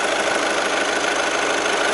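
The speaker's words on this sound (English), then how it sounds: "the engine's running." An Audi A1 Sportback 1.6 TDI 103 BHP diesel idles with the bonnet open, a close, steady clattering diesel rattle at a constant even level.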